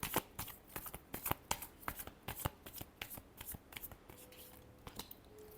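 A deck of tarot cards is shuffled by hand, a quick series of crisp riffling slaps and flicks close by, repeated irregularly over several seconds in a quiet room.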